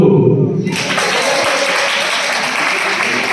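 Loud, sustained applause from a crowd at a college freshers' party, steady clapping filling the room throughout after a brief opening moment of voices.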